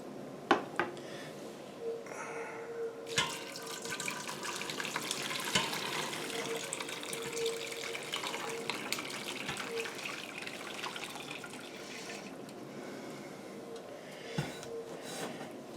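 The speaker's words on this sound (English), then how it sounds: "get all this juice all strained off" Liquid from a cooked boudin mixture pours and trickles through a colander into a sink, a steady broadband splashing with a few sharp knocks, close and alone with no talk.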